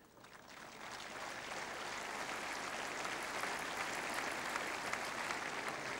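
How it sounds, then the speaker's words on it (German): Steady, moderate applause from a tennis crowd at a German Open women's ceremony in Berlin rises quickly and then holds as a dense, even patter for several seconds. "der Beifall an der Stelle ist aus einem Grunde nur noch nicht so heftig"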